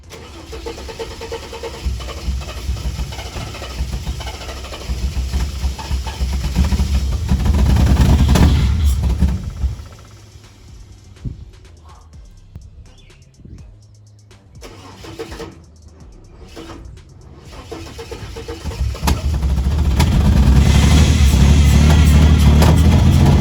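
Ford AU Falcon being started for the first time in years, its engine cranking and catching into a loud rough running, dropping to a quieter low idle, then surging loud again with a heavy rumble.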